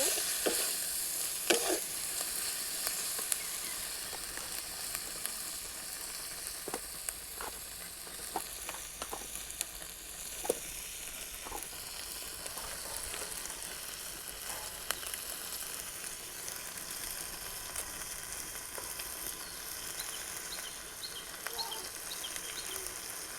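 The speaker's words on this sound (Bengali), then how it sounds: "মশলাটা কষাচ্ছি।" Spice paste with salt and turmeric frying in a pan for rohu fish kalia, a faint continuous sizzle with scattered light stirring clicks, and a bird calling softly in the background.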